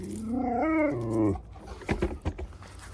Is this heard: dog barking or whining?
yes